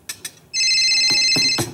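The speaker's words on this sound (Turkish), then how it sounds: "Kızım, kim arıyor? Baksana telefonuna." A phone in a Turkish comedy sketch rings with a loud electronic ringtone, a sustained bright tone broken by a few short clicks and knocks.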